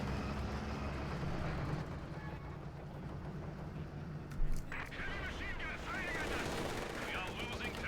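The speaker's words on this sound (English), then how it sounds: "T-50 machine gun having fought once more, shoots and the shot goes a bit low" A T-50 machine gun fires in the Company of Heroes 2 battle game, bursts of gunfire crackling beneath a constant din of combat and a voice talking over it.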